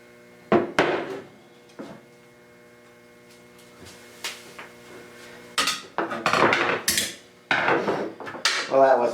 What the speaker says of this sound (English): I don't like hitting the end of the crankshaft like that